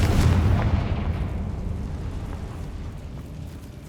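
A Confringo spell explodes in Hogwarts Legacy, a heavy, deep boom that starts loud and rumbles away slowly over several seconds, with no talk.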